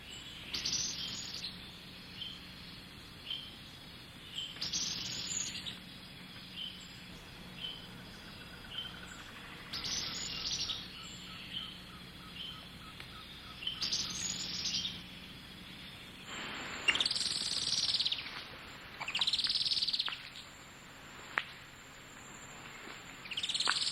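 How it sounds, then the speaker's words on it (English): Rainforest birds in a Belize jungle: a plain xenops gives rapid, high-pitched trills, followed by the lower, more drawn-out trill of an olivaceous woodcreeper, repeated calls set against faint insect hum. "a plain xenops gives his rapid, high-pitched trill and is followed by the lower-pitched, more attenuated trill of the olivaceous woodcreeper"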